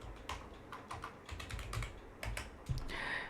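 Keys on a computer keyboard clatter in quick, irregular taps, fairly soft and close, with no talking over them.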